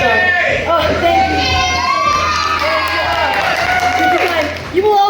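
A stand-up comedy audience cheers, shouts and whoops loudly for a comedian taking the stage, a dense sustained crowd roar with scattered clapping throughout.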